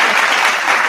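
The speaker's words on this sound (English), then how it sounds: "Clap, clap, clap, clap, clap." Sitcom-style applause from a crowd, a dense steady wash of many hands clapping, loud and close, holding evenly through the short stretch.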